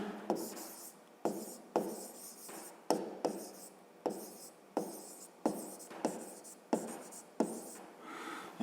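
Pen strokes writing out a math solution by hand, a steady series of about a dozen short scratchy bursts in an even rhythm, close and fairly quiet with no talk.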